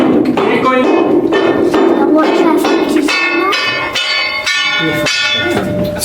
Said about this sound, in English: While I'm hitting along the metal plate here,